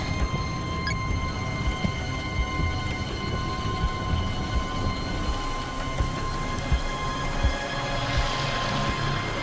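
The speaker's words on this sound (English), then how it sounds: "It's really starting to rain." Steady rain falls continuously with a broad hiss and scattered heavier drops, holding an even level across the whole stretch with no voices.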